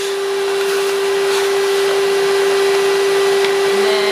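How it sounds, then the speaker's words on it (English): A vacuum cleaner runs loud and close while cleaning out part of an iRobot Roomba 880, a steady motor whine with a strong constant hum and airy suction noise throughout. "Vacuum this part out right now"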